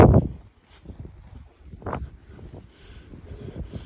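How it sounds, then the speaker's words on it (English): Cold winter wind gusting outdoors in upstate New York, with rough low-frequency buffeting on the microphone that comes in bursts, strongest at the start and again midway, with softer rustle between. "That freaking cold wind."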